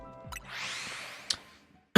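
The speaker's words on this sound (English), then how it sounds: "Sorry, I'm just coughing in your ears." A single close, raspy cough followed by a brief sharp burst, otherwise quiet.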